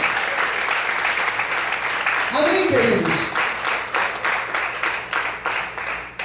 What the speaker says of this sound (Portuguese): Será que você pode glorificar e aplaudir ao Senhor nessa noite?